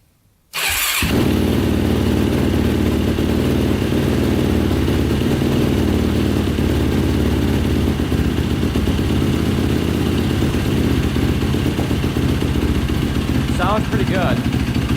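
A cold big-bore Yamaha YFZ450 quad fires up and settles into a loud, steady, clattery idle close by. It keeps running throughout with no change in pace.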